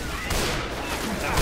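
Rapid gunfire in a Left 4 Dead 2 multiplayer match, a dense, loud burst of overlapping shots over a brief moment with some voice underneath.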